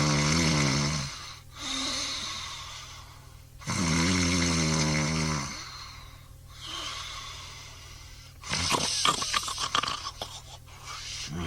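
A cartoonish snoring sound effect from a Mr. Men children's story cassette: long, loud, rumbling snores repeat in slow rhythm, then end in a few snorting, sputtering breaths, close and alone.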